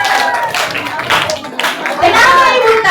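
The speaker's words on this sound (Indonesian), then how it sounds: "tepuk tangan dulu untuk mereka berdua" Children in a school classroom clap their hands in uneven bursts while young voices talk and call out over and between the claps, close and fairly loud.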